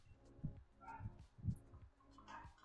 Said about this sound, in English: You heard the doggy barking?